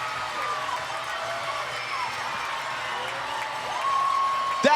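A baseball crowd packed with kids cheers a home run at a Nashua Silver Knights game, a broad, sustained roar with whoops rising toward the end, heard beneath a commentator talking.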